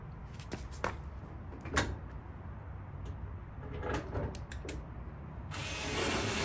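A screwdriver driving 1/4-inch screws into the lower door panel of a Whirlpool gas dryer, heard as a few sharp ratcheting clicks and scrapes spread across a quiet room, with a brighter burst of noise at the end.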